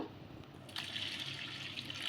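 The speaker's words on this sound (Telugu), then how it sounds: "ఇప్పుడు వీటిని రెండు మూడు సార్లు అయితే బాగా కడుక్కుందాము" Water splashes and trickles as rice flakes are washed by hand in a bowl, a soft continuous washing sound after a brief quiet start, with no voices.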